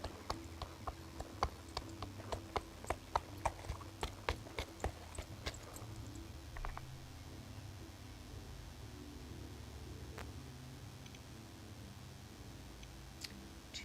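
Faint, rapid clip-clop of hooves from a horse race in the video game Equinox Homecoming runs for several seconds over a steady background hiss, then fades to scattered ticks.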